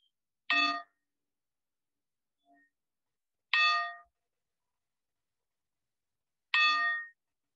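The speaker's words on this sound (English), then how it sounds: "prepare to invite the sound of the bell." A meditation bell is struck three times at a lovingkindness practice group, each a clear, bright ring with a short decay, spaced about three seconds apart in otherwise silent, quiet surroundings.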